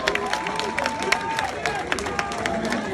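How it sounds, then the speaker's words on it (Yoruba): Crowd applause and clapping from an audience at a gathering for the Ooni, with scattered claps and cheers over a busy background while voices and music carry on. "ẹ pàtẹ́wọ́ fúnra yín pàtẹ́wọ́ fúnra yín"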